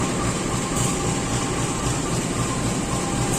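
Loud, steady rumble and rushing noise inside a moving subsidized economy-class passenger train between Surabaya and Jakarta, constant throughout with no voices.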